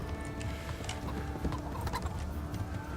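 Horse hooves clip-clop in a steady rhythm in the medieval game Kingdom Come: Deliverance II, mixed with clattering gear, a busy game soundscape and background battle noise.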